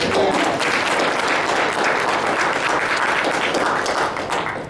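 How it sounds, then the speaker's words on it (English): Audience applause at the First Historic Unity Day gathering in Bessemer, Alabama, a dense, steady wash of many hands clapping close and loud for nearly five seconds, easing off slightly at the end. "We're going to give you another round of applause"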